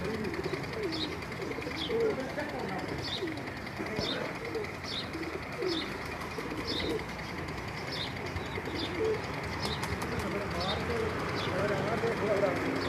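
Pigeons coo repeatedly in low, rolling calls from a rooftop during a Punjabi pigeon-flying contest, with steady outdoor background noise, faint repeated chirps and people talking nearby.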